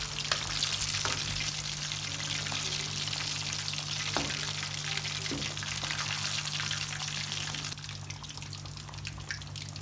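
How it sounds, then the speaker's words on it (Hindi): Fish pieces frying in oil after being turned to the other side, a continuous close sizzle and bubbling with a few sharper pops and clinks, steady throughout with no talk. "5 मिनट हो गए हैं इसको फ्राई होते हुए। अब मैं इसकी साइड चेंज कर दूँगी।"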